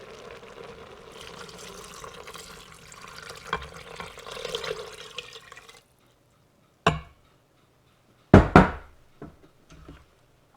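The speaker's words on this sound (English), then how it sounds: "Then I'm going to add 4 cups of the beef broth." Beef broth pours into an Instant Pot with a soft, continuous liquid splash for several seconds. Then come a few sharp knocks and clunks, faint and close.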